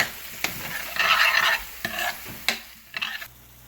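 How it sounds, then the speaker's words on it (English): Sauces and corn flour paste stirred through half-cooked chicken Manchurian in a pan: scraping bursts of stirring over a soft sizzle, several strokes separated by brief pauses, close and alone. "add all the sauces and mix well"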